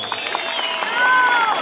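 An outdoor crowd at a rural jaripeo contest in Santa Catarina Minas, Oaxaca, claps and cheers in a brief, loud burst, with sustained high whistles ringing over the clatter of hands.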